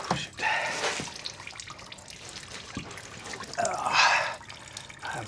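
Antifreeze coolant drips and splashes from a 2019 Kia Sorento 3.3 during a leaking water pump replacement. Irregular wet drips and a couple of louder splatters sound close, in a quiet workspace.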